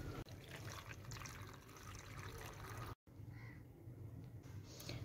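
Hot water pours into an automatic washing machine drum, a steady continuous gushing and splashing that runs throughout, briefly cut off near the middle before resuming.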